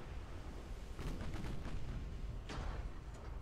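Naval artillery fire in the warship battle game Ultimate Admiral: Dreadnoughts, with a USS Utah battleship engaged. A continuous dull rumble runs throughout, with several sharp gunfire cracks in the middle and another distinct blast near the end.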